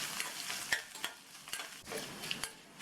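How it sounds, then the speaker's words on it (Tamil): Finely chopped peeled ginger sizzles in hot oil in a pan while a spoon stirs it, giving a soft steady fry broken by a handful of sharp scraping clicks against the pan, close and quiet. "இஞ்சியை 1 நிமிஷம் போல் நல்லா எண்ணெயிலேயே வதக்கி விட்டுக்கணும்"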